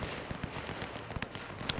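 Sporadic machine gun fire in the WW1 video game Between Empires, a scattering of sharp, fairly distant crackling shots over a steady battlefield din, with no clear talking.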